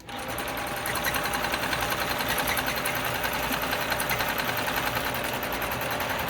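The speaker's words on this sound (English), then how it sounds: "I'll do a quick little bit of demo on how it looks from my point of view when I'm quilting" A longarm quilting machine stitches a meandering pattern across a quilt, a loud, steady mechanical whir with rapid needle chatter that runs continuously and close up with no talking.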